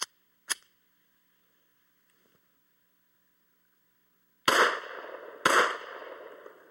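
Two sharp Glock pistol shots ring out near the start, then a long quiet gap before two more much louder, reverberant shots about a second apart, each ringing out on a laser range.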